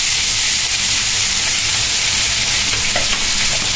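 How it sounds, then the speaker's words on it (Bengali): Fish frying in a pan for a pre-dawn sehri meal, a steady loud sizzle and hiss with occasional stirring scrapes, continuous throughout with no talk. "ফুপু মাছগুলো এখন ভেজে নিচ্ছে।"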